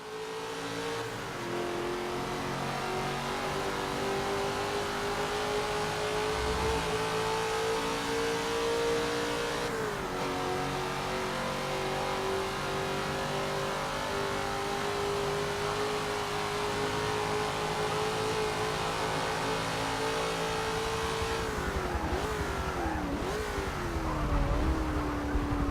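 A car engine in the racing game Forza 7 revs hard after a downshift into first gear, a steady loud whine holding high through the whole stretch and dipping briefly as revs change, with no talk.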